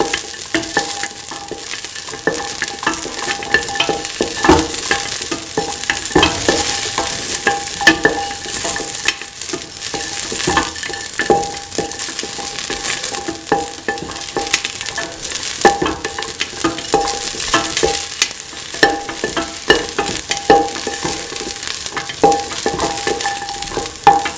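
A kidney bean and green pea stew sizzles steadily in a pan while being sauteed, with frequent close scraping and tapping of the stirring utensil throughout and no voices.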